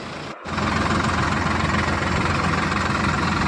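A farm tractor engine runs during field tillage, a loud close rumbling drone with a rapid knocking pulse, holding steady after a brief dropout near the start.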